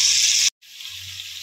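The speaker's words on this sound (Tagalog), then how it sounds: "So, pinapa-brown muna natin yan ang manok" Chicken browns in a pan for Filipino arroz caldo, giving a steady, close sizzle that drops out briefly and then comes back slightly softer.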